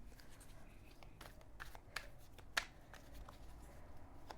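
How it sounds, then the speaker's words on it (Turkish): A card is drawn from a tarot deck, with soft card-handling rustles and a sharp flick or snap near the middle, quiet and close, while a voice speaks faintly around it. "Bakalım tarot destemizden bir kart daha seçeyim"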